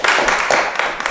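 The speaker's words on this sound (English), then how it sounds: "Give her a round of applause." A brief burst of audience clapping greets the island governor at a community gathering about a reburial and memorial space, a short, close patter of many hands lasting about a second.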